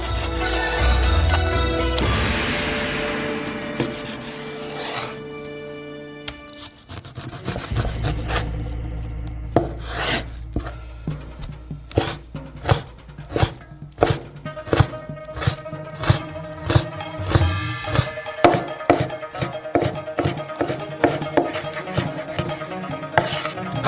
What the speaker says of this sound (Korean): 돼지고기도 똑같이 잘라주세요.